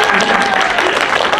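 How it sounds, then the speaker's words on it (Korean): A theater audience at a stage event claps in dense, sustained applause, loud and close, with a voice briefly audible through the clapping. "여러분들이 큰 박수로 힘을 좀 주시기 바랍니다."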